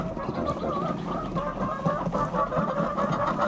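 BV 380 chickens kept under a sheep shed on a farm, clucking continuously at moderate volume, several birds overlapping against a steady background hum.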